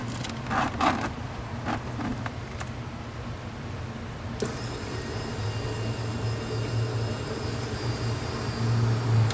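Walbro 450 and AEM 320 fuel pumps running together in an RX7 with a 2JZ swap and surge tank: a steady electric whine and hum that steps up suddenly partway through, then holds a sustained high-pitched drone.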